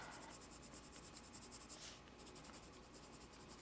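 A colored pencil moves across paper in a steady, faint scratchy rub with no breaks, very quiet and close.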